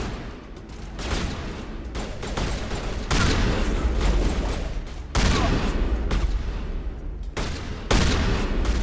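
Shotgun fire and combat noise in the Mass Effect video game, a dense, loud run of booming blasts in surging bursts that run together across the stretch, no voices.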